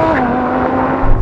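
Audi R8 or RSQ8 accelerating hard in a drag race, a loud steady engine drone with rising pitch close by, brief and under no speech.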